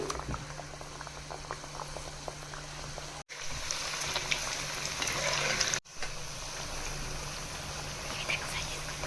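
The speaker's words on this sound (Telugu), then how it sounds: "ఆయిల్ వేడైందండి. ఇప్పుడు ఒక్కొక్కటి వేసుకోవాలి." Samosas fry in hot oil, giving a dense, continuous bubbling sizzle close up, broken by two very short gaps.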